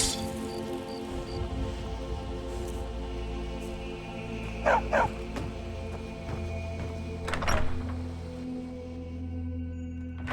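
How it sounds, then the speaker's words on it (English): A dog in Skyrim gives a few short barks, two close together and then one more, over a steady background of rain-like hiss and low ambient hum. "Stupid dog."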